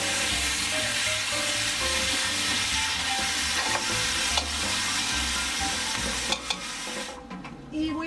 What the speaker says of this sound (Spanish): Aquí ya dejé freír mi carne un poquito